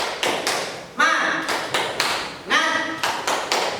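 Rhythmic 'tepuk semangat' clapping chant by a group, with sharp bursts of claps in a steady pattern, clear and close, mixed with voices chanting along.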